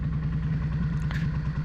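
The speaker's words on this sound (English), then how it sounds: "it is louder than a standard exhaust. That's because it's got a Belkovich exhaust system on it." A Yamaha XVS 650 Classic motorcycle fitted with a Belkovich aftermarket exhaust idles steadily and loudly up close, its low, even engine pulse running throughout with a brief clatter partway.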